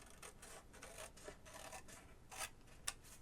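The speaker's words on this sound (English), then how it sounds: "And then I'm going to cut this one at an angle like this." Scissors snip through a book page on an angle for a coin envelope, with soft rasping paper-cutting strokes throughout and two sharper snips near the end, no talking.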